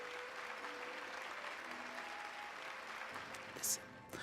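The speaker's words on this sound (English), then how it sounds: "Hear how the crowd adores you." A crowd in the video game Hollow Knight applauds with steady, sustained clapping at moderate level, ending with a brief louder accent, no one talking over it.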